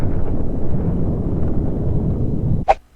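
A planet blowing apart in the space-destruction game Solar Smash gives a loud, sustained low rumbling roar that fills most of the moment, then breaks into a couple of short sharp bursts near the end.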